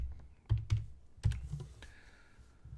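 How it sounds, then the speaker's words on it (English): Someone types a password on a computer keyboard to log onto a website: a few quiet, uneven keystrokes close by in a hushed room. "and typing in their password."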